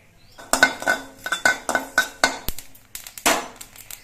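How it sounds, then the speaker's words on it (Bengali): A metal spatula scrapes and clinks against a dry kadai while nigella seeds are roasted without oil, giving a series of sharp, close, rhythmic metallic strikes and scrapes with short pauses in between. "শুকনো কড়াইতে অল্প করে কিছু কালো জিরে ভেজে নিচ্ছি"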